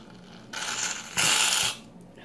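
Shaving cream hisses and sputters out of a full aerosol bottle in two bursts, a shorter one and then a louder sustained spray, close by and with no talking.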